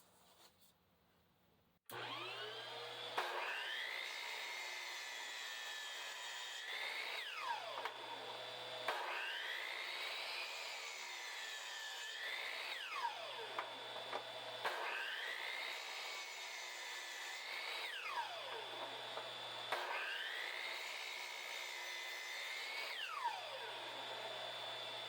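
A power saw with its blade tilted at 15 degrees makes repeat cuts in wood against a stop block, four evenly spaced passes, each with a rising whine, a steady cutting tone and a falling wind-down, close and loud.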